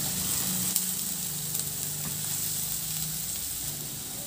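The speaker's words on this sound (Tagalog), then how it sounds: "Ihalo lang hanggang sa maluto lang din yung sibuyas." Onions sauté in a pan for a chicken dish, giving a continuous close sizzle with a few soft clicks and scrapes from stirring throughout and no talking.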